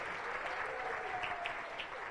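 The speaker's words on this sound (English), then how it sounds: "Please give one more round of applause for Barbara" Sustained applause from an audience at an ethical leadership forum, a steady dense wash of clapping held at even loudness throughout, with no speech over it.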